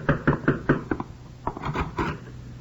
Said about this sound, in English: When Comrade Martin finally knocks at my door,